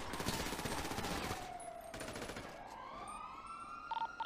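Rapid gunfire in a GTA roleplay game erupts close and loud at the start, mixed with a wailing police siren that rises and falls and carries on after the shots stop.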